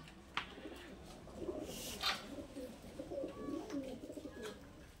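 A green-eyed Madras pigeon coos softly at close range, a few low throaty rolling calls over quiet background hiss.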